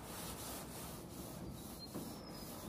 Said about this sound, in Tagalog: Kaya gumamit tayo ng steel wool sa pagtanggal ng mga mancha dito sa bubungan